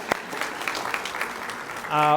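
Scattered applause at a county commission regular meeting, with light clapping pulses over a roomy hall before a brief voice or tone enters near the end.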